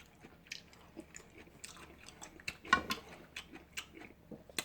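Close-up chewing of stir-fried onion eaten with garlic, with soft crunchy bites and wet mastication in an irregular rhythm, alone and fairly quiet.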